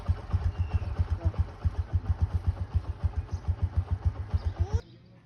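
Motorcycle engine idling close by, a regular thumping pulse at steady rhythm for several seconds before it cuts off near the end.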